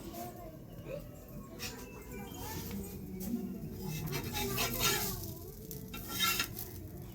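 Dosa batter frying on a hot pan in a village home kitchen, a steady soft sizzle with light stirring and utensil clinks, while people talk over it throughout.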